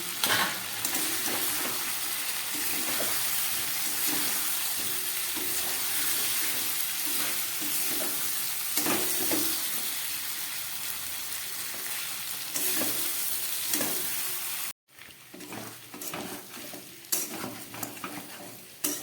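Fried potatoes and pointed gourd are stirred into spices in a hot pan, with loud continuous sizzling and scraping strokes that pause briefly near the end before resuming.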